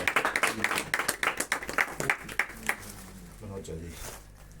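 A small group claps in quick, uneven bursts at close range, fading out partway through while voices talk underneath.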